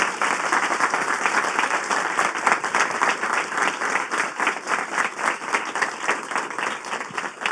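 Audience members at a TEDx event in Colombia give sustained applause, a dense steady clapping from a sizable crowd that continues throughout without speech.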